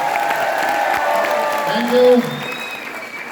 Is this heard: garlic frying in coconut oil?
no